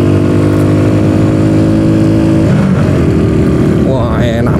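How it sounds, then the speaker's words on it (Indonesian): A self-built motorcycle labors loudly up a mountain road at night, its engine droning at steady revs before the pitch shifts as it changes gear, close up and continuous. "Cuman nafasnya jadi pendek nih motor, tapi nggak apa-apa, yang penting dia kuat nanjak."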